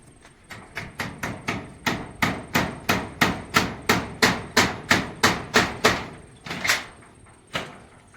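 Steady hammer blows drive nails into steel flooring on a multi-storey house build, about sixteen sharp, ringing strikes in an even rhythm, then a pause and two final hits, loud and close with no talk.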